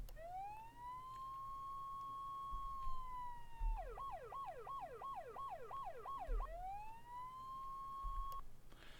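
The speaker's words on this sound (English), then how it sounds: "And we can throw the siren on." A police car siren in a video game wails in a long steady tone, switches to a fast yelping warble for a few seconds, then returns to the wail; clear and continuous.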